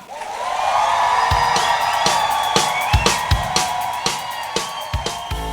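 A conference audience breaks into loud, sustained cheering and whooping to welcome a lecturer onstage, with sharp claps or thumps punching through the crowd noise at an irregular rhythm.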